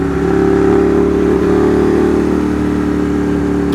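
A 2015 Ducati Monster 821 motorcycle engine revs loud and close, a steady, strongly droning mid-pitched roar that holds its pitch throughout, with no talking.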